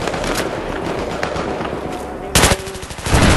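Rapid machine-gun fire rattles continuously and loud in a Battlefield 3 co-op firefight, with heavier bursts toward the end and a voice speaking briefly under the shooting.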